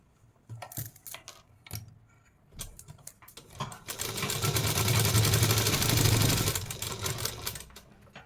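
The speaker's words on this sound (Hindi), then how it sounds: "इस हिस्से पर हमें सिलाई लगा लेनी है।" A sewing machine stitches thick seams on a salwar, starting with a few short stop-start bursts and then running in one long, loud, steady whirring burst before slowing down and stopping.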